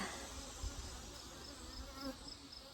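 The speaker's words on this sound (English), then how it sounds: "Some of those guard bees from the 3rd hive, I'm sure they're just a testy hive." Guard bees buzz around a 24-frame horizontal Layens hive in late summer, a steady close swarm drone with no talk.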